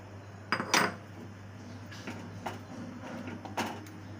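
A metal lid is set onto a pot of hilsa fish curry with potato and eggplant: a few close clinks and clatters of metal on metal over a low steady hum, with no one speaking.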